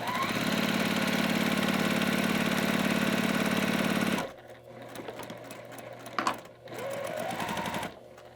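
Sewing machine stitching quilt fabric pieces: a close, steady, rapid mechanical whir for about four seconds that stops abruptly, followed by faint handling noises and a short, quieter burst of stitching.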